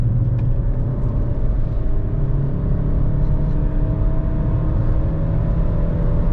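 A 2020 Jeep Renegade Longitude 1.8 Flex with automatic transmission drives a mountain road, its engine and tires giving a constant low rumble and whir from inside the cabin, with no break or change in pace.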